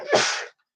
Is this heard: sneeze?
yes